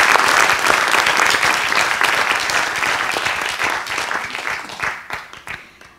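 Audience applause at a Tel Aviv startup accelerator demo day: sustained, dense clapping from a large crowd that thins and fades out over the last second or so.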